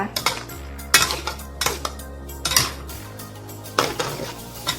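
A spatula clanks and scrapes repeatedly against a pan while mixed vegetables and fried egg are stir-fried, loud, close metallic knocks over a low steady hum.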